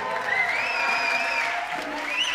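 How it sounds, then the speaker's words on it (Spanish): Applause and crowd noise at a carnival concert, steady clapping with whistles and cheers rising over it, no voice speaking. "Un aplauso grande."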